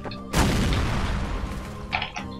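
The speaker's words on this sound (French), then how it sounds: "Merci pour cette grenade." Grenade blast in Counter-Strike: Source, a sudden loud booming explosion followed by a long rumbling decay, with another clattering impact near the end.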